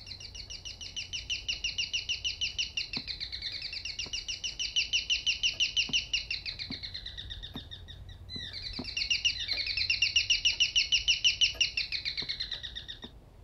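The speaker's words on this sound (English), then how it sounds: "These little birds." Small birds chirp in the horror video game Devotion, a fast rapid trill repeating in long bright bursts with a brief pause midway, fairly quiet and with no talk.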